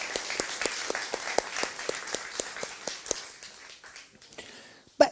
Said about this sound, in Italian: Insomma, un applauso.